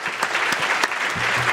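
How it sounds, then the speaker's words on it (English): A conference audience gives the speakers a brief round of applause at a closing session. The clapping is steady and moderate, with a few distinct louder claps and a faint low murmur near the end. "Everybody give a round of applause for the speakers"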